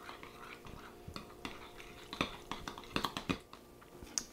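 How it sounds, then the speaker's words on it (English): Spoon stirring a tzatziki mixture in a bowl, a run of soft irregular clinks and scrapes that grow busier toward the end, fairly quiet and close with no talking. "And just give it a stir."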